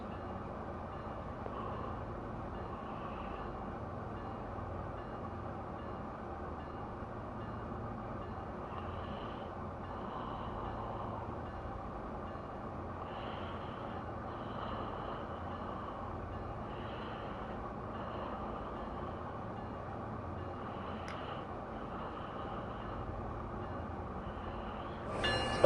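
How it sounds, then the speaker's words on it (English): A locomotive in Train Simulator sits with its brakes releasing and air pressure building, heard as a steady low mechanical rumble and hum that runs unbroken throughout, with one small click right at the end. "Now we gotta release the brakes to the locomotive. Let the locomotive build its pressure."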